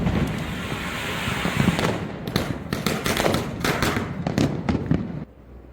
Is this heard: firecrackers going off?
yes